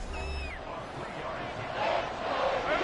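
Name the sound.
football stadium crowd cheering on defense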